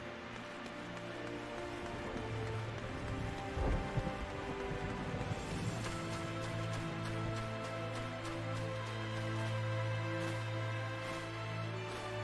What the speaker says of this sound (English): Ooh, it's raining.